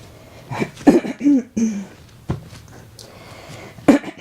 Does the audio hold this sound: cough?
yes